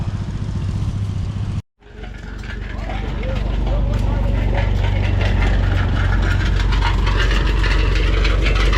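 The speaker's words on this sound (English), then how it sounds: "Couple John Deeres with a B and an H on a grist mill" Two John Deere tractors, a B and an H, run a grist mill at a farm heritage show, their engines a steady loud rumble that swells up after a brief dropout and holds.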